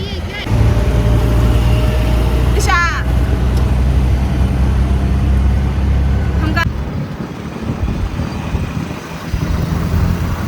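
Bangalore street traffic heard from inside or beside a vehicle: a loud, close engine rumble and road noise, with brief horn-like tones cutting through and voices talking over it.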